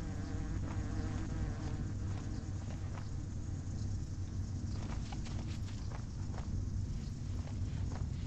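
A steady, loud drone of bees buzzing fills the scene in a game, continuous and close with a low hum throughout and faint flickers of other noise on top.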